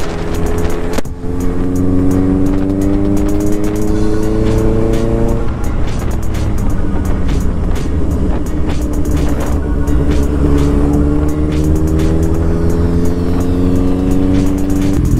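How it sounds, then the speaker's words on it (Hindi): Honda CBR Black Edition motorcycle being ridden in Uttarakhand, its engine droning loudly and continuously throughout, with rising and falling pitch as the rider shifts and accelerates, plus steady wind and road noise. "मज़ा आ रहा है अभी बाइक चलाने में सच्ची में"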